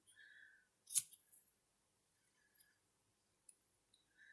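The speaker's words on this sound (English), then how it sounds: "And I cut mine at about 1 inch long." Scissors snip a strip of designer paper to make trim for a gusseted candy bag, one sharp close cut followed by a few small soft snips and light paper rustles in a quiet room.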